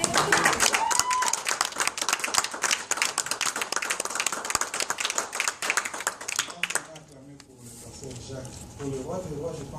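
A church congregation claps together for several seconds in fast, dense rhythm during a worship service, then the applause thins and fades into quieter sound with voices.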